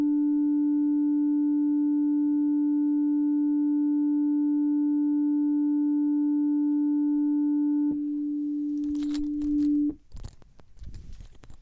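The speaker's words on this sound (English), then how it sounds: "So if we listen here, I have got a sine wave." A steady, pure electronic tone holds at one pitch for several seconds, then cuts off abruptly, followed by brief clattering handling noise.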